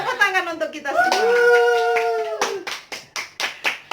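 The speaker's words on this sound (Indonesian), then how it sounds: "Tepuk tangan untuk kita semua." A seminar audience claps at a talk on environmental sanitation. A voice speaks first, then sharp, fairly close handclaps follow in a quick, steady rhythm.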